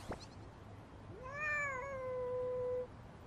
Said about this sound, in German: Du bist ein liebes Kätzchen.